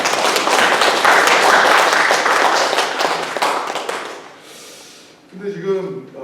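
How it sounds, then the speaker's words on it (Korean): A church congregation applauds loudly for about four seconds, then the clapping fades out and a voice begins speaking. "정말 우리 박수로 한번"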